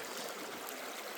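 A creek running hard after high water, a steady broadband rush and burble that stays faint and even throughout, with no voices.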